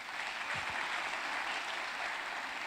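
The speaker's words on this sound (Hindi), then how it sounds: "एक जोरदार ताली नाहिद के लिए।" Faint audience applause rises from a crowd at a testimony event, a brief, distant patter of clapping heard on its own.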